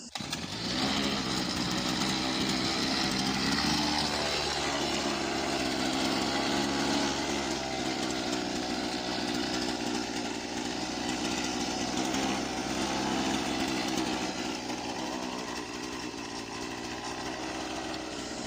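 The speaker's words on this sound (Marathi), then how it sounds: "तर या मशिनीचं नाव आहे ग्रास कटर" A petrol grass cutter engine runs loudly and continuously nearby, a high buzzing whine that dips slightly in pitch partway through.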